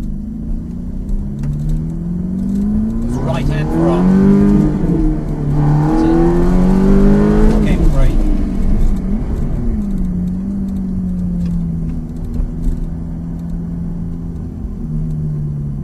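A Ferrari F430 or Lamborghini Gallardo sports car accelerates on a race track, engine rising in pitch through gear changes, peaking loudly mid-way, then settling into a steady nearer drone for the rest, with no voices.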